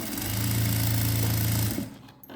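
A sewing machine back-stitches a pant seam on fifty-inch trousers, giving a steady, loud mechanical hum for nearly two seconds before it cuts off abruptly into quiet.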